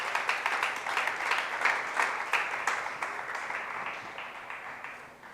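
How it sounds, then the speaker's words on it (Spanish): A church congregation applauds together, a thick, sustained wash of clapping from many hands that holds steady and then gradually fades out. "alaba al Señor y dale un aplauso"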